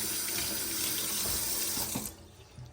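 A kitchen tap runs in a steady, close stream while fruits and vegetables are rinsed under it, with faint splashing before the flow cuts off near the end.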